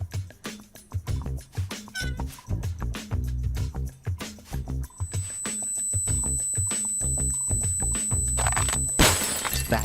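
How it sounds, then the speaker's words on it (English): Glass cabinet shattering in Leisure Suit Larry, heard amid a busy run of game sound effects and music, with a bright crash near the end. "That sound shattered the glass cabinet."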